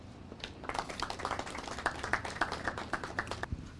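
Applause from the audience at a ministry of health event in Kenya, launching a national cancer control programme, following a speech. Scattered clapping rises and continues steadily as a moderate, somewhat distant patter.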